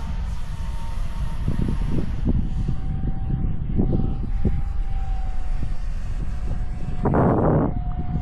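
An RC F-117 model airplane flies overhead with a steady electric whine, its pitch shifting gently as it passes, over a low rumble of wind and ambient noise, with a brief louder burst near the end.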